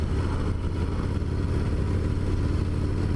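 Harley-Davidson Dyna Low Rider S motorcycle, a 2017 model with a 110 cubic inch twin cam engine, rumbling steadily and loud throughout a demo ride, a continuous deep engine drone with road and wind noise and no talking.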